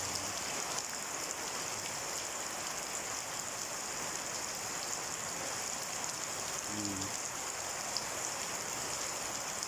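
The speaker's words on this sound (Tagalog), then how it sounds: "Malakas ang ulan." Steady, dense rainfall hisses continuously, a heavy downpour drumming on surfaces without pause.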